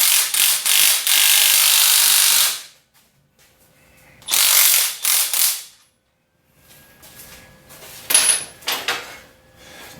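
Ratchet working the bolts on a lawn mower swing arm during a Mow and Go Systems install: loud bursts of rapid clicking ratcheting, each lasting a second or two, separated by pauses, close and without talk.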